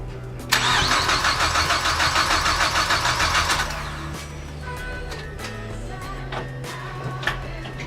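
A Mazdaspeed 3 engine cranks with no fuel in the lines, the starter churning in a rapid, even rhythm for about three seconds. It stops without catching, leaving a low hum and a few faint clicks.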